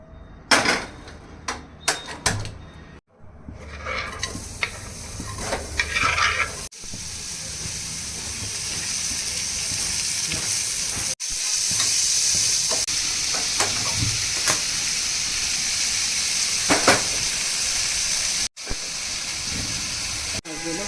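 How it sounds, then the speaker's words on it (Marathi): Onion and coconut browning in oil in a pan for a masala paste, a steady broad sizzle and hiss running throughout, with occasional stirring scrapes and a few short bursts near the start. "कांदा तेलामध्ये चांगला लालसर परतून घ्यायचा आहे आपल्याला"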